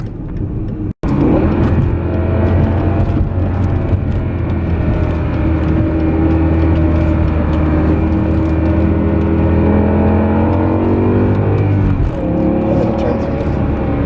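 A BMW E60 M5 with its V10 engine pulling while driving, a loud steady in-cabin drone with rising harmonic tones as it revs, briefly cut near the start and easing toward the end.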